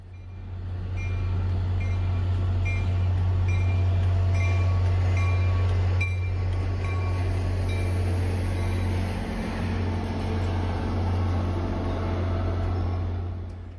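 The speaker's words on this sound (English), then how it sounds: "here comes what they were waiting for, MBTA outbound 105" An MBTA outbound commuter train, number 105, rumbles past in Rockport with a loud, steady low engine drone and rolling noise, a high whine joining partway through, close and continuous.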